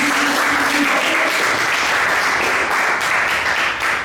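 A church congregation applauding the Lord during a French-language sermon, with dense, sustained clapping filling the room, loud and continuous.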